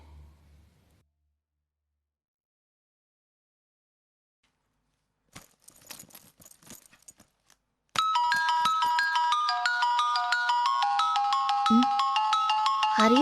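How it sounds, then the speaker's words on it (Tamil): A phone ringtone starts after a near-silent pause and a few soft clicks and rustles, then rings loud and steady with a repeating melodic pattern until the end. "ஹரி சார் ஃபோன் பண்றாரு."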